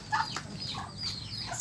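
A group of young ducklings peeping and chirping close by, with several overlapping high calls and no voices.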